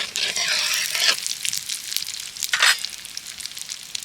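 Asafoetida drops into hot mustard oil for an amla pickle, giving a soft crackling sizzle with a couple of brief louder spitting bursts, close and moderately quiet.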